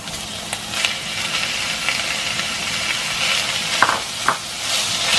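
Beef stir-frying in hot oil with scallions in a wok, a loud close hiss and sizzle with intermittent scraping and clanking of the spatula, no speech.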